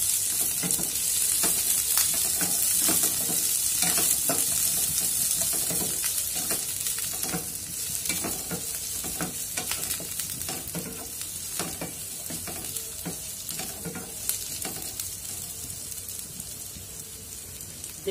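French beans frying in a pan while being stirred, a continuous close sizzle with scattered crackles and soft scraping, steady and unbroken with no talking.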